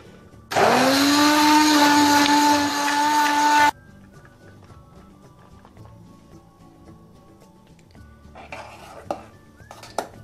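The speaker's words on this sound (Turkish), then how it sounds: "Şimdi blenderımı çalıştırıyorum." A blender whirs loudly for about three seconds, puréeing a milky potato soup, its motor pitch steady, then cuts off, leaving quiet clinks of dishes and utensils.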